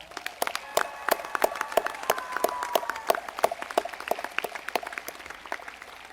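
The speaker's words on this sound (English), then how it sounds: "If we can give them a round of applause." A commencement audience applauds newly commissioned Army ROTC graduates, with scattered sharp claps ringing out over a steady crowd wash and a faint tonal sound drifting through the middle.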